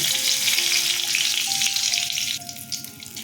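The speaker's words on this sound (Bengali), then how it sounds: "শুকনো লঙ্কা তেজপাতা দারচিনি ছোট এলাচ ফোড়ন দিলাম" Dried chili, bay leaf, cinnamon and small cardamom crackle loudly in hot mustard oil, a dense close sizzle that eases slightly toward the end, with no voices.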